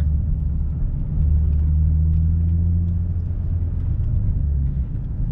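A Ford Mustang fitted with a new exhaust gives a low, heavy engine rumble that stays steady and close throughout, with a slight rise in pitch and no voices.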